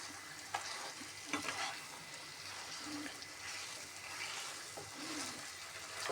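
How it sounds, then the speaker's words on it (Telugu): Moong dal halwa stirred in a pan after cardamom powder goes in, a soft, faint low sizzle with gentle scraping strokes and light clinks at an unhurried pace. "ఈ యాలకుల పొడి కూడా వేసి హల్వాని బాగా కలుపుకోవాలి"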